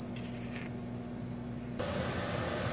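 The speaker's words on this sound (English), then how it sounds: "we will kill the power and the alarm will sound." A Flow Sciences fume hood's steady high-pitched alarm tone sounds over a constant mechanical hum with its fan off, then cuts off abruptly, leaving the hum and a louder rush of air.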